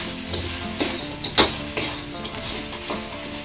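Crispy fried pork ribs being stirred with jalapeno in a hot pan, a loud continuous sizzle with scraping strokes and one sharp utensil clank near the middle.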